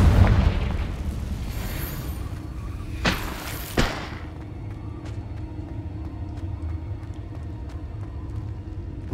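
Confringo fire-blast spell from Hogwarts Legacy on PS5, with two sharp bursts close together over a dense, steady rumble of game ambience and a few faint ticks afterward.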